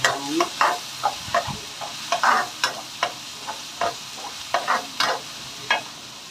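Chili paste made from ground dried chili, garlic and shrimp paste is stir-fried in oil, with a soft sizzle beneath repeated sharp scrapes and clinks of a utensil stirring in a regular rhythm, close up.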